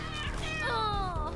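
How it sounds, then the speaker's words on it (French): Cartoonish cat meowing in a video game, two short rising-and-falling mews in quick succession, close and clear over a faint music bed. "je t'ai vu, le chat, gentil le chat"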